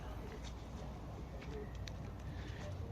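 Pigeons in a coop on a cold day give soft, low cooing calls, faint and steady beneath a continuous background rumble.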